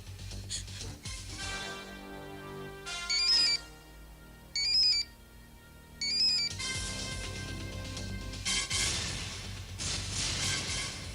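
An electronic phone ringtone chirps in three short bursts over a dramatic music backdrop in a TV drama scene, no one speaking.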